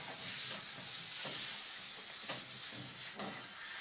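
Walnut-veneered cabinet surface being hand polished with shellac, a soft, close rubbing and hissing with faint rhythmic strokes, steady and fairly quiet with no talk.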